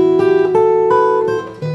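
Fingerstyle steel-string acoustic guitar played without a thumb pick, picking a sustained melody over subtle bass notes in a ballad's bridge. A few close, clear, ringing phrases, heard alone.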